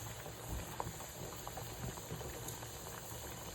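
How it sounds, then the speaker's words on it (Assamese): Potatoes boil in a pot with a constant bubbling simmer, close and steady throughout, with small pops and gurgles over the continuous rolling hiss. "এইফালে আলুখিনিও প্ৰায় বইল হৈ গৈছে"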